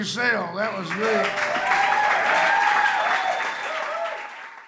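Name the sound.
audience clapping at a concert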